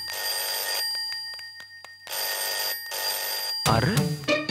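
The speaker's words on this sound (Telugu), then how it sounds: "ఏంట్రా ఫోన్ రింగ్ అవుతూనే ఉంది" A telephone rings in a hotel deluxe room, two long loud bursts of trilling bell with a pause between, then a voice speaks over the end.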